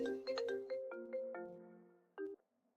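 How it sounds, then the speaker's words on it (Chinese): A mobile phone ringtone plays a clear melodic sequence of bright electronic tones, stepping down in pitch. After a short pause a final tone sounds, and there is no talking. "手机铃声响了起来"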